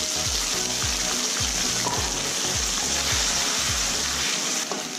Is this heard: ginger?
yes